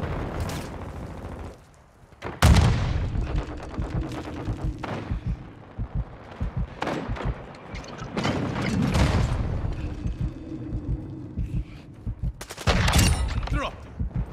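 Gunfire in the video game Call of Duty: Modern Warfare II, with loud rapid bursts and booming shots in clusters throughout, and game voices heard amid the shooting.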